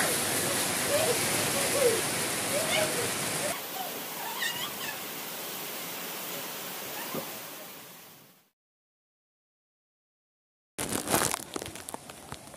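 Heavy rain pours over a village, a dense, steady wash of noise that runs continuously, then cuts to silence and returns abruptly as a louder, rougher burst near the end.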